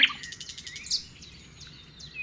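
Nightingale song: a few bright, rapid chirps and warbling trills close by, ending in a thinner, fading whistle against a quiet background.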